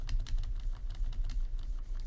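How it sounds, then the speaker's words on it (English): Computer keyboard keys pressed rapidly, the space bar spammed in a fast steady patter of clicks, close and distinct, no voices. "So if you hit the walk for me and then spam the space bar"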